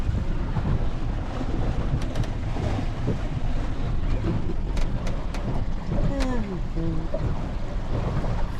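Steady rush of wind and water noise while sailing, a continuous broadband roar with faint creaks and brief tonal squeaks partway through.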